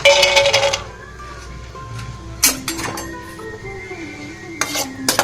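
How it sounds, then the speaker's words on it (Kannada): Peanuts tipped into hot oil in a pan for Karnataka-style tempered rice, with a loud clatter at the start, a quiet stretch, then sharp metallic clinks and scraping against the pan. "ಮೊದಲಿಗೆ ಪ್ಯಾನಿಗೆ ಎಣ್ಣೆ ಹಾಕ್ಕೊಂಡು ಬಿಸಿ ಮಾಡಿಕೊಂಡು ಕಡಲೆ ಬೀಜ ಹಾಕೋಣ"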